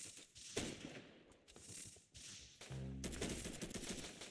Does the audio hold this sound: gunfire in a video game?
yes